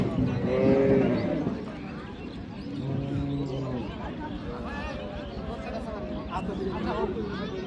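Frisian cows and calves lowing at a rural cattle market, several drawn-out moos close by over a busy background of crowd chatter and people talking.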